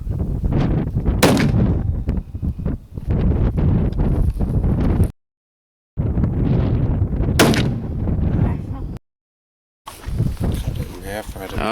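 A .50 caliber rifle firing FMJ military rounds into Earthco Megablocks outdoors produces loud, booming reports with wind buffeting the microphone. The shots are separated by abrupt silent gaps, and people talk between them.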